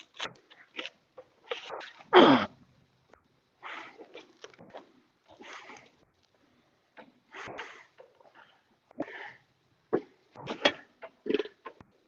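A single sharp sneeze bursts out on a fishing boat at night, standing out among scattered quieter rustles and knocks.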